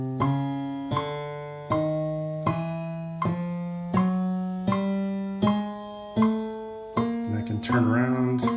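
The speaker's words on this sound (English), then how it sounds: "So if I play a little bit with my metronome, it would sound like this, 80 beats per minute." Piano notes step through a scale one at a time at a steady 80 bpm pace, each struck tone ringing clearly and evenly, with a brief busier flourish near the end.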